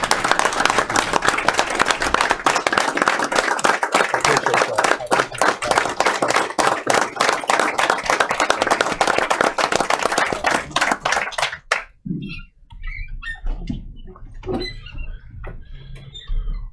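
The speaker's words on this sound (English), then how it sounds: "I just want to know if it's appropriate to applaud him for his service." Dense applause fills a county board meeting room for about twelve seconds, steady and close, then stops abruptly, leaving quiet room noise with faint movement.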